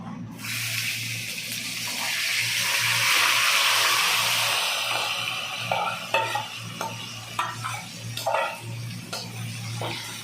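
Chicken and whole cumin seeds drop into a hot pan, starting as a loud rushing hiss that settles into a steady sizzle, then close scraping and clattering stirs.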